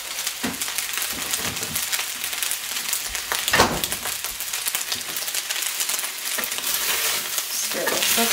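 A soy sauce mixture is stirred in a hot frying pan, sizzling loudly and close with repeated scraping strokes and a few sharper clatters.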